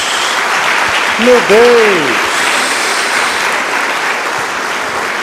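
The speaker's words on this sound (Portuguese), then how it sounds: "Dá uma salva de palmas a Jesus." Congregation applauding during a church service, a steady wash of clapping with a brief exclamation from a voice early on, continuing evenly throughout.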